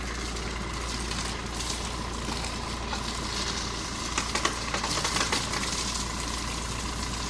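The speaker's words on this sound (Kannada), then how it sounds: "ಕಾರ್ನ ವಾಶ್ ಮಾಡ್ತಿದ್ದಾರೆ. ಅಂದರೆ ಸುಮ್ಮನೆ ಜಸ್ಟ್ ಮೇಲಾಗೆ ನೀರು ಹಾಕ್ತಾನಷ್ಟೇ." Water sprays over a car during a wash, a continuous hissing rush with faint background rumble and a few splashes near the middle.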